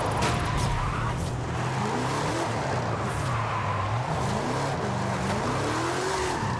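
A car drifts in Forza Horizon 5, its engine revving and wavering in pitch while tires squeal steadily beneath it, loud and continuous and close.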